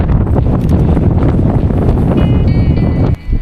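Strong wind buffeting the microphone on top of a small volcano in Ulanqab, a loud continuous roaring rumble that briefly dips near the end.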